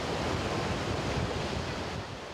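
Ocean surf breaking on a shore where surfers ride high waves, a steady, dense, loud wash of roaring water with wind noise, continuous and close with no voices.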